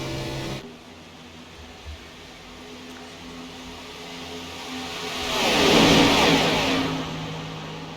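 A race car engine roars past at Daytona, building from a low distant hum to a loud whooshing pass near the middle before fading slightly, with no talk.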